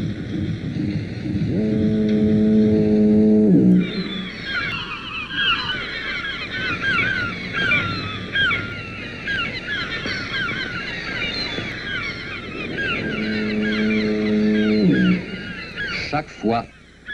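A lighthouse foghorn siren on a rocky bird island in the gulf sounds two long, deep blasts several seconds apart, while gulls and gannets call steadily in between.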